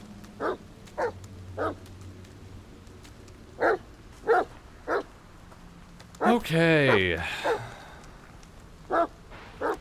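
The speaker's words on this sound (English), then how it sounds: "Hello, dog." A dog in the video game The Medium gives a string of short, sharp barks at irregular intervals, then a drawn-out whining whimper before barking resumes, close and clear, with a brief spoken word from a person.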